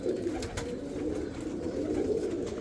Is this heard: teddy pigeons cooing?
yes